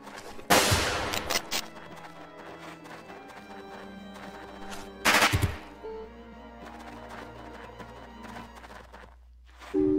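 Gunfire in the video game Jagged Alliance 2: two loud bursts of shots, one near the start and one around the middle, separated by quieter background game sounds.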